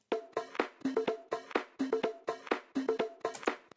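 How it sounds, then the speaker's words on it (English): A soloed percussion loop from a dance track repeats a tight, punchy pattern of hits at a steady tempo, with crisp transients and no other instruments. "Now I've got this percussion loop. Let me just solo that."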